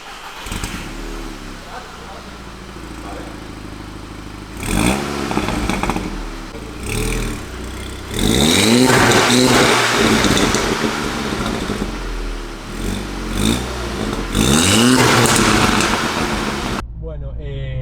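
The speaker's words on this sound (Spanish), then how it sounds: "ahora vamos a escuchar el sonido del GTI de Julio" A modified Volkswagen GTI tuned for pops and bangs, with anti-lag, revs hard in a series of rising, loud bursts from idle, with people talking over and between the revs.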